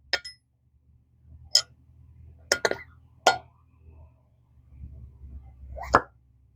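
Several sharp, short pops of an engine valve during a cylinder head inspection, spaced irregularly over a low steady rumble, each a brief crisp burst, fairly close.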